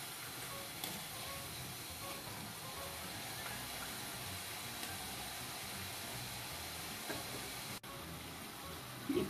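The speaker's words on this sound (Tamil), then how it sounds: "இப்போ எண்ணெய் சலசலப்பு கொஞ்சம் குறைஞ்சிருக்கு" Hot oil sizzling while ribbon pakoda deep-fries, a faint, steady hiss that runs unbroken throughout.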